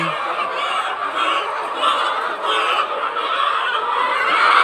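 A flock of fowl clucks and chatters continuously at close range, a dense busy layer of calls without speech.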